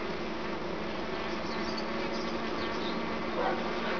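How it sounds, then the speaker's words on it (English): Bumblebee and honeybees buzzing together at a wooden hive box, a steady dense insect drone close to the microphone with no talking. "The bumblebee must have went into the honeybee box thinking it could make a nest."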